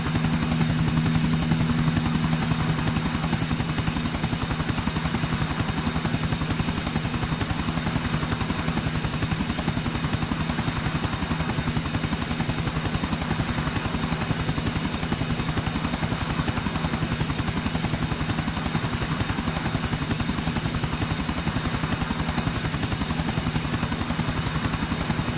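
A helicopter in a Grand Theft Auto chase drones loud and close, its rotor thudding in a steady, unbroken rhythm with a persistent engine whine, alone without speech.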